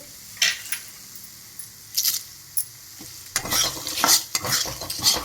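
Dried red chillies fry in hot oil or ghee for an avarekalu curry, a metal spoon scraping and stirring in short scattered strokes, then a louder sustained sizzle with clinks of the pan near the end.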